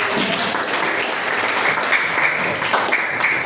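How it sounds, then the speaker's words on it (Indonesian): A classroom of students clapping together during a lesson on automotive electrical parts, a short burst of brisk, close applause with a few sharper individual claps. "tepuk tangan untuk"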